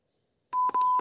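Short electronic phone beeps as the volume is pushed to maximum, a few quick close tones in succession after a moment of silence.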